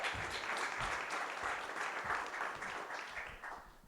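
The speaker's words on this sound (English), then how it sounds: "Give him a round of applause." Crowd applause greets a presenter taking the stage at a game development end-of-year party, a dense, steady clapping wash lasting throughout with no talk over it.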